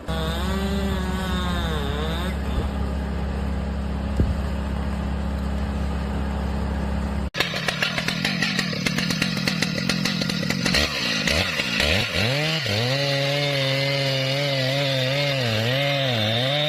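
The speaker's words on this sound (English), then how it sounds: "The worker approaches with a steel chainsaw, a symbol of raw power and accuracy." A steel chainsaw cuts into a massive tree trunk. The engine whines and revs loudly, the pitch dropping and bogging as the chain bites into the wood, then rising again, close and continuous throughout.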